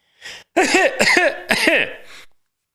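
Several harsh, muffled coughs into a sweater in quick succession, close to the microphone, ending in a breathy exhale.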